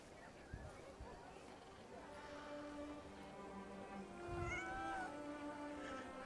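A small cat meows a few times in the game Crimson Desert, faint and brief, above quiet game ambience and background sound.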